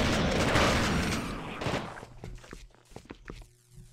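Gunfire aimed at Spitters in the video game The Thing: a loud, dense burst of shooting at the start, fading into scattered thuds and sharp single knocks.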